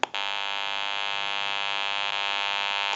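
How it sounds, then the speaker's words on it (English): Constant electrical hum from a General Electric 27909 cordless telephone's amplifier, harsh and buzzy, switching on with a click and droning at an even level throughout, with a faint blip midway. "You may hear a little bit of an electrical hum."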